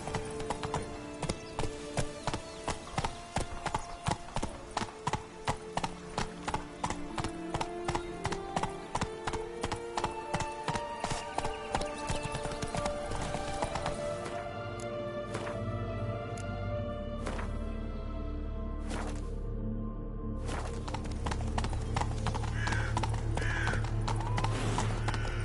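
Roach, the horse in The Witcher 3, clip-clops in a steady, even rhythm of close hoofbeats that fade after about fourteen seconds, leaving a lighter background with a low hum.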